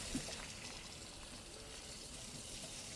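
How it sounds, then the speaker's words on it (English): Cool tap water pours over white basmati rice in a strainer, a faint, steady splashing trickle running throughout with no voices. "put it in the strainer, and then we will rinse it. Rinse with cool water for about a minute."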